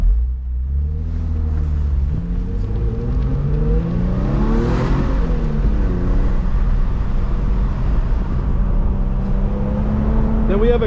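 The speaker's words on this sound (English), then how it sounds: "Beautiful day to drive a lovely G37 coupe like this." A 2008 Infiniti G37 coupe with a six-speed manual drives on the road, its engine droning loud and steady from inside the cabin, rising and falling in pitch with gear changes and acceleration, with tyre and road noise underneath.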